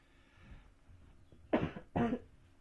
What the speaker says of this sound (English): So I have a cough, I have flu.